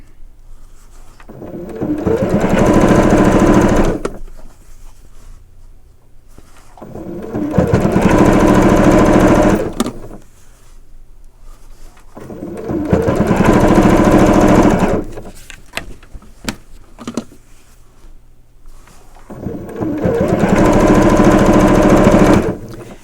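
Sewing machine stitching straight binding, four long motor runs of several seconds each, loud and close, separated by quieter pauses with faint clicks between bursts.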